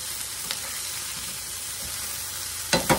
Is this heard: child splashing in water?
no